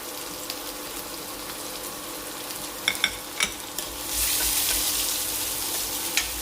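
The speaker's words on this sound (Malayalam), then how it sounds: "ബാക്കി എണ്ണയിലേക്ക് ഒരു ടീസ്പൂൺ വെളിച്ചെണ്ണ കൂടെ ചേർക്കാം ഇതിലേക്ക് ആദ്യമേ ക്യാരറ്റ് ചേർക്കാം" Carrots frying in coconut oil for a vegetable chutney make a soft, low hiss, with a few sharp spoon taps and then a louder burst of sizzle as they hit the pan, with no talk.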